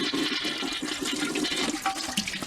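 Water is poured into a toilet bowl and flushes through it, a close, full rushing and gurgling swirl that holds steady throughout with no voices.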